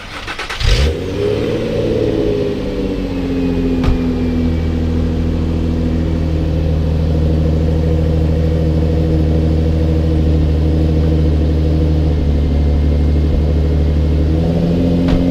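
An Infiniti G35 engine starts with a loud burst, then holds at an elevated, steady rev near 3000 RPM, droning close-up and unbroken for over ten seconds.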